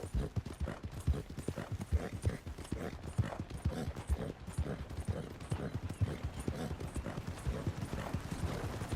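Horse hooves gallop in Red Dead Redemption 2, a fast steady clip-clop rhythm of many close, loud hoofbeats running through the whole stretch with no talk over it.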